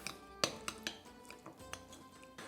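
Utensil taps and clinks against a bowl while chicken kebab marinade with vegetable oil is stirred briskly, a few quick scraping knocks at close range, then quieter irregular taps.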